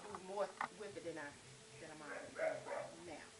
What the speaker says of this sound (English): that's my dog having a fit